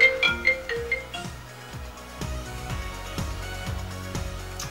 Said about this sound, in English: there is also actually one exclusive ringtone, so let's take a look at that